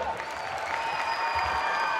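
An audience claps steadily at a handball club's season-ending gathering, a dense, sustained round of applause at moderate volume from a crowd in a hall.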